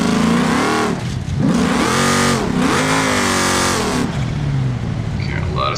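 A 1500HP sandcar engine in the video game BeamNG revs hard and loud throughout, rising and falling in pitch with repeated throttle surges, continuous and close.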